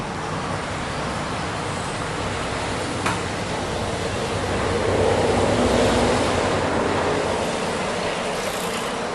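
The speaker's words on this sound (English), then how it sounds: "So you can see the water running." Water running steadily down a slanted channel from bags during traditional African water fufu production, a continuous broadband rushing flow that swells slightly midway, outdoors with no talking.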